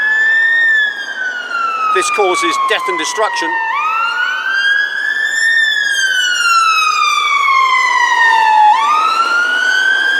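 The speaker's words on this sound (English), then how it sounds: "As you can see, all the ambulances coming past" Ambulance sirens wail past on a city street, loud and close, their rising and falling tones sweeping continuously with a brief rapid yelp burst midway, while someone speaks over them.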